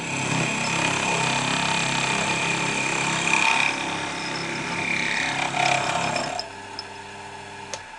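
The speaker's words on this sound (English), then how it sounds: "I'm now going to drill the back and see what it looks like" A power drill bores into the back of a woodturned cube in a workshop, a steady loud whirring grind that holds for several seconds before the tone drops and settles into a quieter hum.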